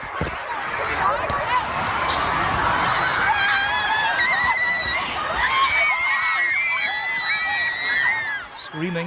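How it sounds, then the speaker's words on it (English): Crowd at Manchester Arena screaming in panic as people flee, a dense wash of high shrieks and wails from many voices, loud and continuous, with some shouting mixed in. "Screaming, terrified, they clambered to escape."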